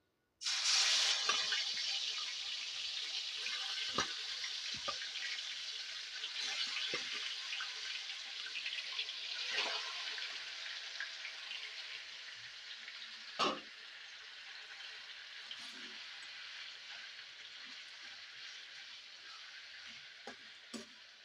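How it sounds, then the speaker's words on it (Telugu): Chicken pieces dropped into hot oil in a pan on a lowered stove flame, frying with a loud, steady hiss and crackle that runs throughout, with a few sharper pops along the way. "ఇప్పుడు నేను స్టవ్ కొద్దిగా తగ్గించి ఇందులో ఈ చికెన్ అయితే వేసేసుకుంటున్నాను"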